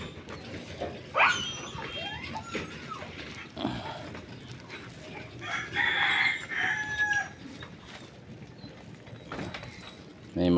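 Roosters crow loudly in several drawn-out calls, with dogs barking here and there in the background, over faint rural ambience and occasional low voices.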